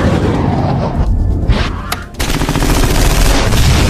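Gunfire from a fighter jet downing a Mirage 2000 in a film: dense, loud bursts of rapid shots and booms fill the clip, with a brief lull before the barrage resumes.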